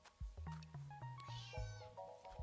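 A hungry cat in the video game Dordogne meows several times in close, clear, drawn-out cries over soft game ambience.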